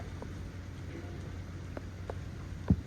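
Steady rain patters on surfaces at Mackay, soft and continuous, with a few scattered louder drops and one low thud near the end.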